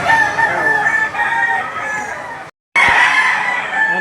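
Roosters crow loudly and chickens cluck close by at a rainy-day chicken market, with overlapping calls continuing throughout and a brief moment of silence in the middle.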